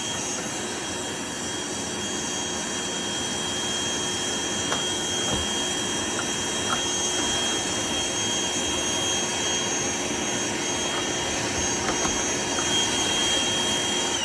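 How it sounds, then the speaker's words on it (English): A shop vac pulls air through the hose of a Hoover Elite Rewind vacuum being serviced, a steady whooshing suction roar with a high whine and no change in level throughout. "suction hose out of my shop vac into here and seeing if it's restricting anything or not"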